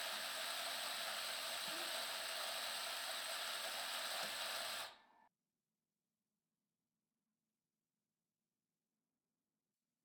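A La Marzocco Jay coffee grinder grinds a dose of espresso beans, giving a loud, steady high-pitched whir for about five seconds before stopping abruptly into silence.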